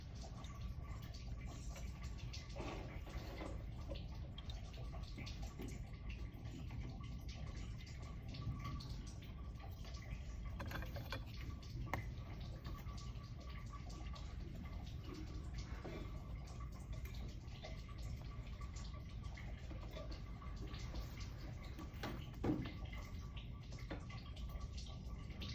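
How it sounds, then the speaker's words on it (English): A Grignard reaction mixture bubbles in a lab flask with a steady, soft fizzing and faint drips that continue evenly throughout, with no talking. "At this point, we'll want to let it bubble for a while"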